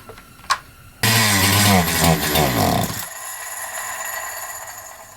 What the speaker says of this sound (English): I was able to get it to restart on choke. And it will try to run a little bit.